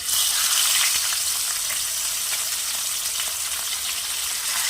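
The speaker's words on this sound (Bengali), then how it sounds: "তেল গরম হয়ে গেছে, এবার আমি মাছগুলো দিয়ে দেবো।" Folui fish fry in hot mustard oil in a pan. A dense, steady, hissing sizzle crackles continuously at close range, with no talking.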